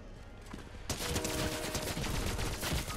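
Video game gunshots begin abruptly after a quiet start, then continue as a loud, dense barrage of rapid firing that keeps going to the end.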